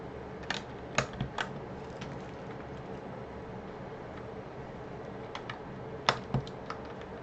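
Mechanical keyboard keys clack in scattered bursts, with a few sharp thocks from the spacebar and quiet gaps between.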